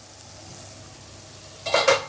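Spice masala cooks down in oil in a pan: a quiet, low background sizzle, then two brisk spatula scrapes near the end.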